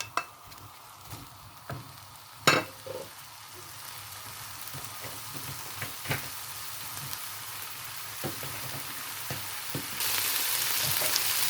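Chopped onion with green and red peppers sizzle and fry in oil in a pan, a steady crackle broken by a few stirring knocks, growing louder toward the end with no talk.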